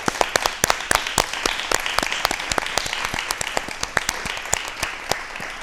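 Studio audience at a televised talk show applauding, a dense burst of crisp individual claps that keeps going steadily, close and lively, with no talk.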